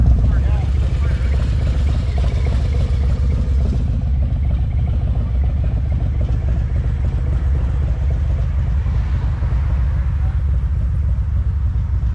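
Harley-Davidson motorcycles at a veterans bike ride, a steady loud engine rumble with idling and revving throughout, close to the microphone.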